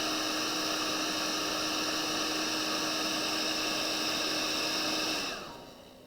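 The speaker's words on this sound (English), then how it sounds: "Let me just hairdryer the white paint" A hairdryer blows steadily on white acrylic paint on a mounted painting, a loud constant whir with a faint tonal hum that cuts off and fades near the end.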